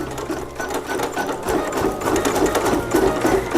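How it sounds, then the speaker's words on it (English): A sewing machine running steadily as it stitches a basting line along the edge of a quilt block, a loud, even mechanical whir with rapid needle ticking, close and uninterrupted. "Here we go with the basting along the edge there."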